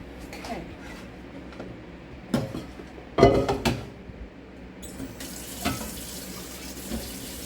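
Kitchen tap water runs into a sink while a whole raw chicken is washed, a steady splashing stream with louder gushes and clatters as the bird is handled under the faucet.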